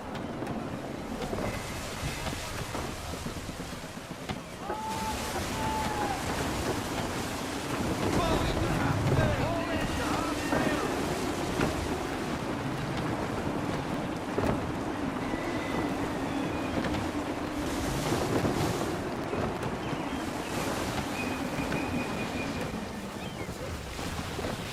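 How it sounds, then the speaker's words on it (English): Gusty wind sweeps over open water while sailing in the video game Assassin's Creed 3: a continuous rushing roar with surging gusts and waves slapping the hull. "Wind looks to be shifting. Stay alert, Connor. Gusty winds can be difficult to manage."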